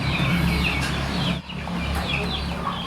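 Fighting cocks clucking and squawking in a coop, several birds calling over one another close by, with a brief dip in the middle before the clucking resumes.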